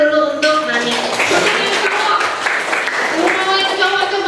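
Students in an Indonesian classroom applaud a classmate, a dense patter of many hands clapping at close range that runs throughout, with children's voices talking over it.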